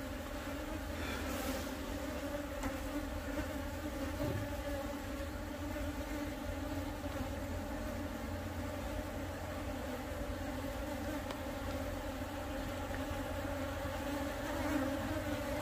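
Bees hover around blooming flowers early in the flowering season, giving a quiet, steady, unbroken hum heard from a distance with no voices.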